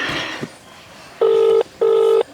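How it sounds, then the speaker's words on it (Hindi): Telephone ringing during a call, two long electronic ring tones in steady succession after a brief bit of background noise, loud and close. "फोन लगा बा।"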